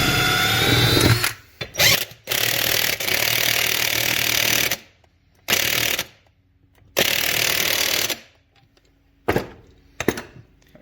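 A pneumatic impact gun hammers on a truck motor mount during a Duramax suspension rebuild, firing in several loud, close bursts of about one to two seconds with short pauses between them.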